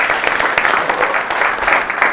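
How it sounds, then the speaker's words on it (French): A studio audience applauds a guest during a French interview sketch, brief dense clapping at a steady level that fills the whole moment. "on peut l'applaudir ce Yellow"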